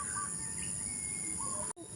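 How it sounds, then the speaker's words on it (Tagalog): Outdoors in the Philippines, small birds give faint, brief chirping calls over a constant high insect-like buzz and a low background rumble. "Yan pala yung mga ibon na dumudunog."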